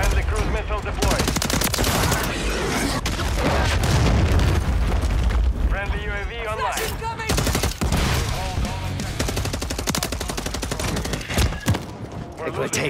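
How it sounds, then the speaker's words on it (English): Heavy gunfire and booming blasts from a cruise missile strike in the Call of Duty 3 video game roll on continuously and loudly, with bursts of automatic fire, deep rumbling impacts and game voices speaking over the din. "Friendly cruise missile deployed."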